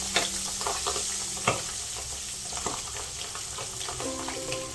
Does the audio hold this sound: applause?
no